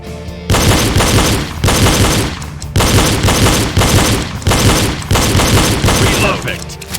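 Repeated loud volleys of pistol gunfire from a shooting drill, about six dense bursts of rapid shots separated by short pauses, close and sharp.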